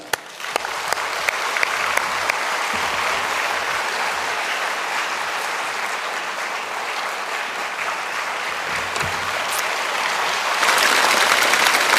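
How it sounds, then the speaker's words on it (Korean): During a Korean Sunday worship service, a church congregation greets an incoming speaker with loud, sustained applause that fills the hall for the whole stretch and swells near the end. "큰 박수로 환영하십시다"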